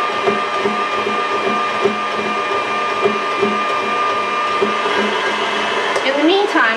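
An electric mixer beats egg yolks with vanilla, giving a steady high motor whine with faint rhythmic pulses throughout and a brief clatter near the end.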